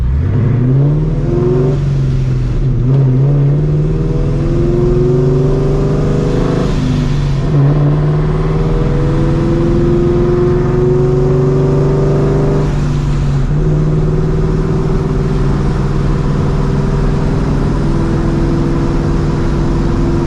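A New Edge Ford Mustang GT with BBK headers and an LAR X-pipe revs repeatedly, its loud, close V8 rising and falling in several climbing sweeps over a constant rumbling idle.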